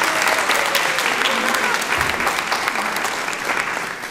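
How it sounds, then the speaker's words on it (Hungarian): A studio or hall audience gives a big round of applause during a Hungarian local television program, with dense, continuous clapping that stays loud from start to finish. "Én szeretném önöket megkérni, hogy Kovács Krisztinát egy nagy tapssal köszöntsük."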